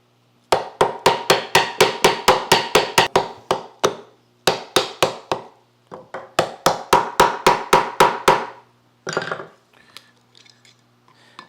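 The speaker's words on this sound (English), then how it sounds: "Chip out the excess wood in the ferrule if we can." Excess wood is chipped out of a tool handle ferrule with sharp, rapid tapping blows in several quick bursts of hits, close and dry, with short pauses between the runs.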